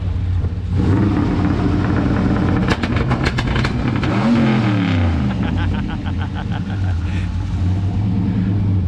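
A car engine held on two-step launch control, loud and close, roaring steadily with sharp rev surges and crackling, while people talk nearby.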